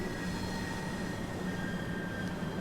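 A train pulling into a station in the video game Train Sim World 3 gives a steady, even low rumble and hum with a faint high whine and no distinct clanks.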